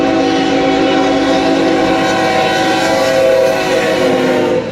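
A train passes close by with its horn blaring steadily throughout, the loud, sustained horn tone layered over rumbling wheels and rail noise, with no talking.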